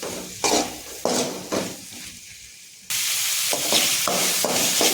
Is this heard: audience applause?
no